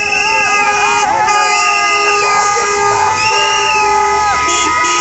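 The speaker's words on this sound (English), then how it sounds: "trying to do like a honk for the toll" Car horns honk repeatedly at a memorial gathering where people jokingly block cars and demand honks as a toll, with sustained overlapping horn tones over crowd noise.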